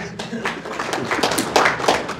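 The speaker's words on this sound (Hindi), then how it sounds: "आपके लिए ताली बजाइए" An audience claps at a village gathering, a short burst of scattered hand claps with uneven, overlapping strikes that build slightly toward the end.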